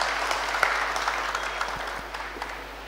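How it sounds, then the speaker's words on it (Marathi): An audience at a Marathi talk on addiction-free entrepreneurship breaks into loud applause, a steady dense wash of clapping sustained for three seconds with a faint low hum beneath it. "एकदा जोरदार टाळ्या त्यांच्यासाठी आपण सगळ्यांनी वाजवायचं."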